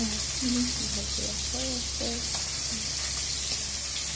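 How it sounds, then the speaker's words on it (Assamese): Fish rubbed with salt and turmeric fry in a wok, a constant crackling sizzle with faint tonal chirps or voice-like sounds drifting over it at moderate level. "কেৰাহীত এইবোৰ মাছ ভাজি কৰিলোঁ মাছটো ভাজি হৈ আছে"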